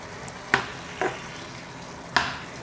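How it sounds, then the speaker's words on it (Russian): A pan of chicken breast filling with sour cream, pepper and salt is stirred, giving a few distinct spoon clacks against the pan over a faint, steady sizzle. "Перемешиваем."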